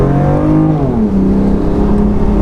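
A BMW M3 with an aftermarket exhaust system revs loudly up close, its engine note holding steady before dropping in pitch and settling into a deep, throaty drone.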